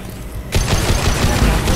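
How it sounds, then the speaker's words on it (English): Assault rifle fire from Mass Effect 2, a high impact shot: after a quiet half second, a loud, dense burst of gunfire and booming impacts rolls on continuously, with game noise and some voice underneath. "Firing a high impact shot. I really, really, really like this assault rifle."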